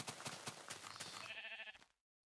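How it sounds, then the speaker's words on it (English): Minecraft sheep bleating in-game, a couple of short wavering bleats close up with no talk, ending abruptly. "There's a sheep."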